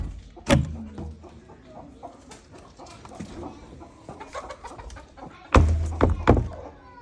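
Chickens cluck and squawk nearby in bursts in a garden, with a couple of loud clucking outbursts amid scattered rustling and background noise.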